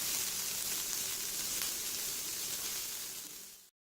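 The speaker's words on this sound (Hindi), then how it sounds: "शिमला मिर्च और मिर्च ऐड करने के बाद हमने इसको 5 मिनट जो है वो भूनना है।" Capsicum and green chilli fry in a pan with an even, hissing sizzle that holds steady at close range, then cuts off abruptly.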